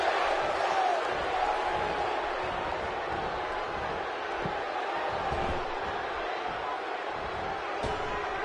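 A sold-out wrestling crowd at a 30-man Royal Rumble match roars and cheers in a steady arena wash, with faint thuds and occasional whistles, moderately loud and continuous throughout.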